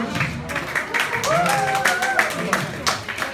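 A crowd at a church youth group lecture claps in a scattered, lively burst, with voices calling out over the clapping.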